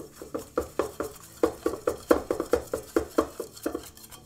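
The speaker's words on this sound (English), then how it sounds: "We're gonna whisk it real fast here." An egg is whisked quickly into pasta flour in a bowl, producing a rapid, steady run of close tapping and clicking strokes against the sides, with no talking.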